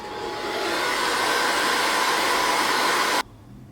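A blow dryer whirs with a steady, loud airy roar for about three seconds while setting a wig cap, then cuts off abruptly into quiet.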